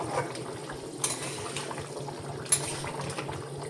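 Meat curry bubbles steadily in a pot, a low continuous simmer broken by two sharp clinks of a utensil against the metal, with no voices.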